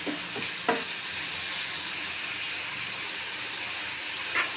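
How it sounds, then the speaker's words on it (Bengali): Spice masala for a papaya, potato and prawn curry is stirred and sautéed in a pan, a steady sizzle with a few sharp spoon scrapes and knocks against the metal, with no voices. "এবার আবার একটু ঢেকে দেবো মশলাটাকে কষাতে থাকবো"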